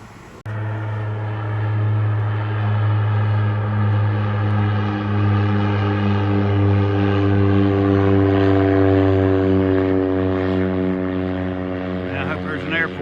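A propeller airplane passes low and close, its steady droning engine note with strong harmonics holding loud throughout, heard over a cruise in Alaska near Skagway while people talk in the background.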